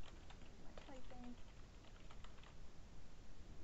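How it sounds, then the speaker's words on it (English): Quiet tapping on a computer keyboard while composing a Word mail merge, a loose run of faint key clicks over low room hiss, with a brief voice-like tone near the start. "My typing."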